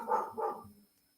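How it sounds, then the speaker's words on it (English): Dogs give two quick barks close together, loud and near, then fall quiet with a short faint tail. "sorry about the dogs barking"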